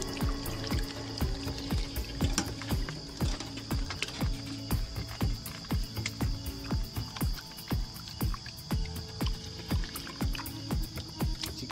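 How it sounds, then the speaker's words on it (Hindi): Chicken neck pieces being washed with water at a night campsite in a forest, with steady rhythmic splashing, scrubbing and rattling, close and moderately loud, and no talk over it. "अभी इसको अच्छे से धो देंगे।"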